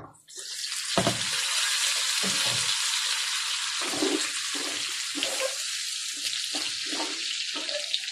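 Pork sizzles in a pan for ginataang sigarilyas, a dense, steady, close frying hiss with small crackles that starts abruptly and continues throughout without talk.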